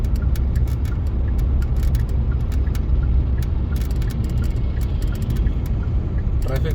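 Road traffic rolls through Adampur, Punjab, on a foggy day: a steady low engine rumble with passing vehicles, scattered sharp clicks and rattles, moderately loud and unbroken.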